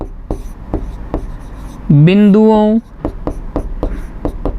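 Chalk or marker writing on a board while working a Class 10 coordinate geometry problem, heard as a steady series of short, crisp strokes. A brief tonal sound interrupts midway.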